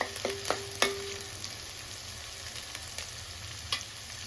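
Dried fish pickle being stirred in overheated oil in a home kitchen, a steady soft sizzle with a few sharp scraping clicks of the spoon near the start and one later, no talk.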